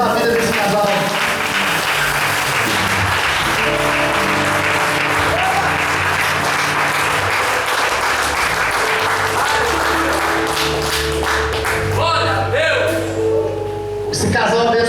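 Church congregation applauding a couple at a gathering in a recovery centre, steady sustained clapping throughout with music or voices underneath.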